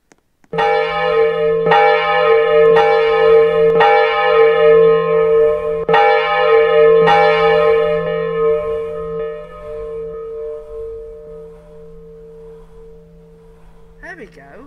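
Church bells in the Roblox game, Odenthal eight-bell set, ring loud and close: about six clear metallic strikes at roughly one-second intervals, each with a long ringing hum that fades, then a brief faint chirp at the end.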